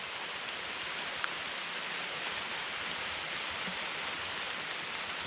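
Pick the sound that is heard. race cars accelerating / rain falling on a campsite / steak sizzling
rain falling on a campsite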